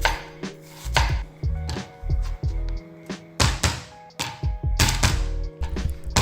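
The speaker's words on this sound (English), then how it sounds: "The onion's a bit more important, that you want to have that as thin as you can get it." A knife chops an onion thinly on a board in quick, steady bursts of hard taps and thunks, close and loud, with brief pauses between runs of cuts.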